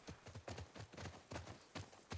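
Horses walking in the video game The Last of Us Part II, their hooves clip-clopping in a steady, uneven rhythm of close, faint impacts, with no speech.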